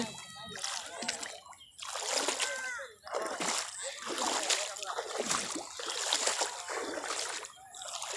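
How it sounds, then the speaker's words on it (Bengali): Repeated splashing and sloshing strides through floodwater covering a submerged road in Nazirpur Union, Kalmakanda, Netrokona, heard up close in rain, with voices talking over the wading. "রাস্তা পোড়াপুরি ডুবে গেছে আমরা বৃষ্টিতে ভিজে পার হচ্ছি"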